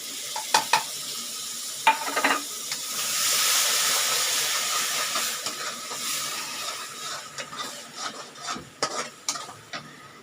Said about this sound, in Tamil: நம்ம அரைச்சி வச்ச மூணு தக்காளி எடுத்தோங்க அதையும் அரைச்சிட்டு வந்துட்டு அதையும் சேர்த்துக்கலாம்